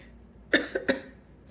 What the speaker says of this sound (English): I was coughing and I didn't want to just cough in your ear here